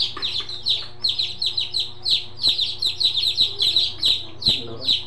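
Chicks peeping in a home kitchen, a rapid run of high, bright chirps repeating close by for several seconds over a steady low hum.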